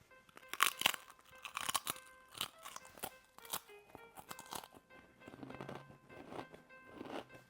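Someone bites and chews large zigzag-shaped potato chips up close, with sharp crisp crunches in irregular bursts followed by softer, wetter chewing; no talking.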